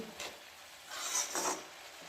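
Vegetables with salt are stirred in a pan for noodles, giving a few soft scraping strokes close by, fairly quiet and on their own.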